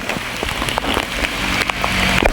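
Monsoon rain falling steadily on surfaces nearby, a dense hiss with scattered louder drop taps, no voices.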